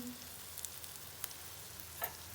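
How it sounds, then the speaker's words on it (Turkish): Coarsely cut zucchini fries lightly in a pan, a soft, steady sizzle with a few faint crackles and pops, quiet and without talk. "Hafif kızartıyorum."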